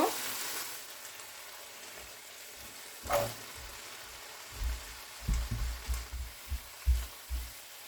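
Cauliflower, papaya and broccoli dropped one by one into a pan of nearly cooked chicken for a wedding-style shahi vegetable dish, bringing faint frying sizzle, a few soft thuds and scrapes as pieces land and get stirred.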